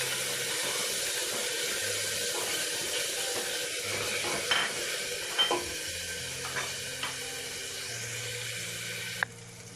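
Tomatoes for a mutton curry sizzle in a pan while being stirred. Steady frying hiss comes with slow scraping strokes and a few sharp utensil clinks toward the end, with no voices.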